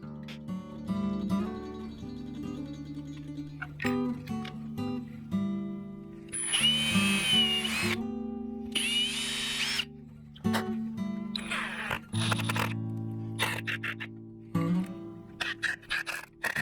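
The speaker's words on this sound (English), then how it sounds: "I drilled out a recess beneath the hanger to account for the nail that would stick out of the wall to catch the hanger." A power drill cutting a recess into the back of a wooden skull mount plaque, heard up close as short whirring bursts of varying pitch separated by pauses, with a few clicks and handling knocks.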